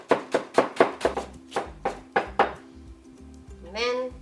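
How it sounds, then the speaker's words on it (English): A knife chops cabbage leaves into thin strips on a cutting board, about a dozen crisp, close knocks in an even rhythm, followed by a short stretch of a voice talking. "cut it this way to make finely chopped cabbage"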